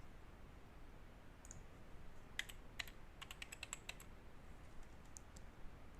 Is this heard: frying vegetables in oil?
no